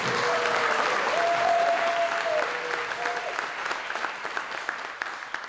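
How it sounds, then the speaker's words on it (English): A concert audience applauds steadily, a dense patter of hand claps filling the hall, with a few sustained whistles early on and the clapping thinning out toward the end. "let's give him another round of applause"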